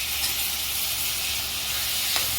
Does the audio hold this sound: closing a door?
no